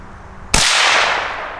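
A single sharp rifle shot fired with CCI Velocitor ammunition cracks out loud and close, then leaves a long bright ringing tail that slowly fades.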